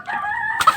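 A rooster crows once, a short nasal call up close that ends abruptly in a brief rustle, with no one talking.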